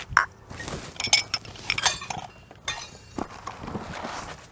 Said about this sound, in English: So it looks like they put like a top layer of just glass.